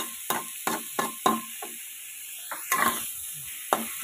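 Minced pork stir-frying in a wok for Thai pad kaprao, with a steady sizzle broken by about eight sharp scraping stirs of the spatula, close and fairly loud, with no talking.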